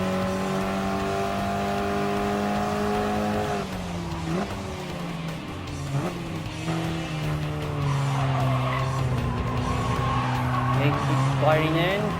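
A race car in Gran Turismo Sport, on the Red Bull Ring, slides through corners with long tire squeals over a rising and falling engine note. Someone commentates over the game sound.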